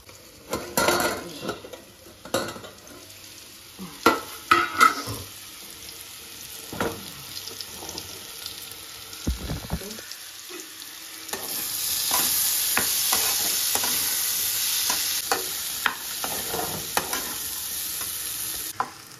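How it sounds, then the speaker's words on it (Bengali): A frying pan of food being stirred on a home stove, with a low steady sizzle under repeated scraping, clattering utensil knocks and metal clinks, growing into a louder hiss partway through. "দেখো এটা আবার সরে সরে যাচ্ছে, তো এটা নাড়াচাড়া করে নিই।"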